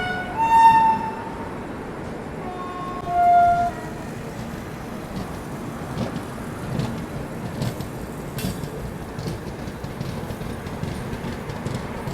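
Two loud train horn blasts at the start from the Brahmaputra Mail passing on the adjacent track, followed by a steady rumble and clatter of the passing train, heard from inside a moving express.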